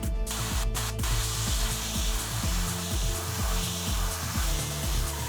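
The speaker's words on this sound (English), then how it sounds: "So we'll be using the airbrush to put down our base layers." An airbrush sprays terracotta base paint in a steady, close hiss that runs unbroken, with a faint low mechanical pulsing beneath it.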